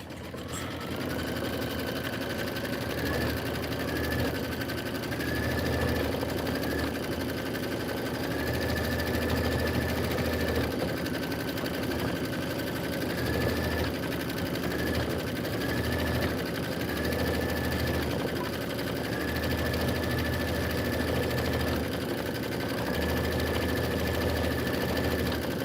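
A computerized embroidery machine stitches quilting along an autumn-themed border, a steady mid-pitched mechanical whir with a repeating tonal pattern that runs continuously at close range, with no talking.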